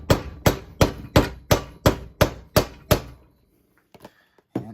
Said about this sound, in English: Using a rubber hammer, I might switch to a metal one.